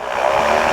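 A PeaBee light aircraft engine roars at full takeoff power, a loud, steady, close buzzing drone that holds without a break.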